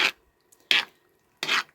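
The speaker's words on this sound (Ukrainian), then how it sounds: "Все це перемішуємо" Three short scraping strokes of a utensil against a pot, evenly spaced with pauses between, close and fairly loud, stirring a vegetable caviar mixture with mayonnaise.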